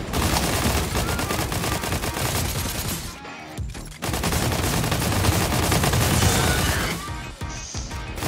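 Sustained automatic fire from a Primal SMG in a video game: a loud, unbroken stream of rapid shots, broken by two brief pauses, with no talking over it.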